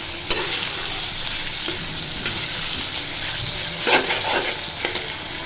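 Half a kilo of mixed-size shrimp fries with garlic in a pan, giving a loud, continuous sizzle broken by a few sharp stirring clatters and spatters, with no voices.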